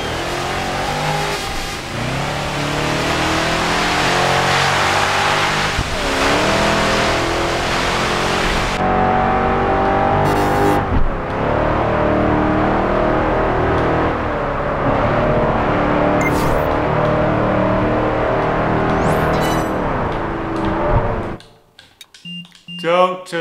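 Engine of a race car in Project Gotham Racing 4 roars loudly and continuously, revving up and down through gear changes for about twenty seconds before dropping away near the end.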